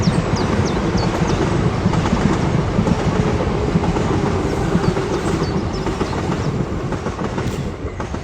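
An empty train rolls past with a steady rumble and rhythmic clickety-clack of wheels on rail, fairly close and continuous, fading slightly at the end.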